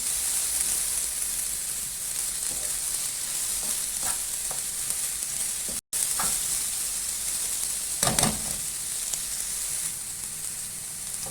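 Peppers frying in a pan for a chicken rose börek filling, a steady close sizzle with occasional stirring scrapes and a louder burst near the end, no talk.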